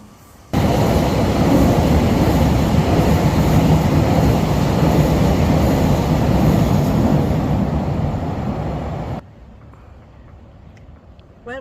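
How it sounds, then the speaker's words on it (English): A train rushes past at high speed beside the Rhine, a loud, dense roar that starts abruptly, holds steady for several seconds, then cuts off, leaving quieter background noise behind. "There was a train going past at a fierce speed"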